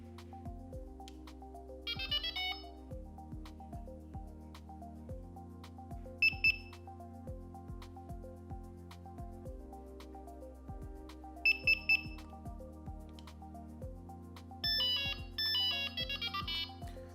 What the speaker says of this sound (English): hold the buttons down for 2 beeps, then 3 beeps, then let go of the buttons